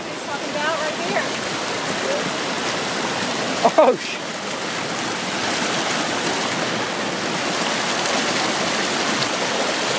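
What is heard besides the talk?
creek water flowing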